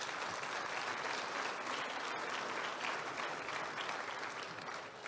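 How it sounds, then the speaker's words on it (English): Audience applause at a regional State of the Region address, a dense, even wash of clapping from a large crowd sustained throughout at moderate distance. "That's an applause line."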